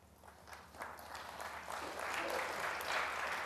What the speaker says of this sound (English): There's a little smattering of applause for frame ball.